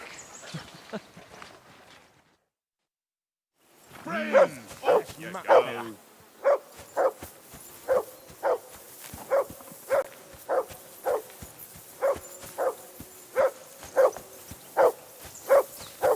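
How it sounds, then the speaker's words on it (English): Dog barking repeatedly at a riverbank camp in the medieval game Kingdom Come Deliverance 2, a steady rhythmic series of sharp barks at moderate distance after brief talk and a moment of silence. "Jesus, Henry, that barking's driving me nuts"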